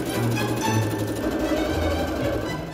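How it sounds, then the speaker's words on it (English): A sewing machine runs in a steady, loud, continuous whir, stitching darts on pieces of a gingham dress. The stitching pauses briefly and its motor pitch shifts slightly between runs. "I'm just going to sew this together"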